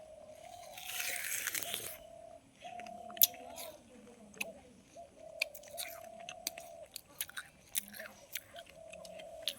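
Soft, close bites and chewing on birthday treats come as scattered crunchy clicks and squishes, faint and uneven, over a low steady hum.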